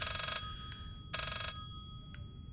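An old-fashioned telephone rings in the horror game Layers of Fear, two loud bright trills followed by faint shorter echoes over low ambient hum.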